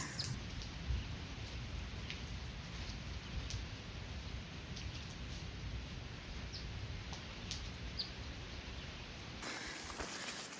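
Steady light rain patters softly on surfaces near Stoney Man summit on the Appalachian Trail, a constant gentle hiss with scattered drip taps, no voices.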